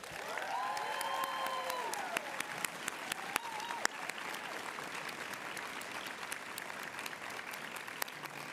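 An audience applauds the orientation committee chair at a law school oath and pinning ceremony with continuous, evenly dense clapping throughout, and a faint voice is briefly audible early on.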